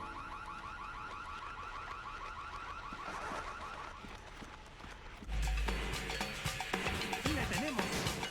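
A sustained pulsing alarm wails during a bank robbery mission in Splinter Cell Chaos Theory, fairly faint and steady, then a louder burst of activity cuts in partway through.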